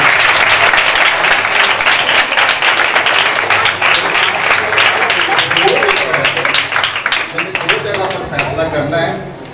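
An audience at a Bible college applauds a preacher, with loud, dense clapping that holds steady before thinning out and fading toward the end.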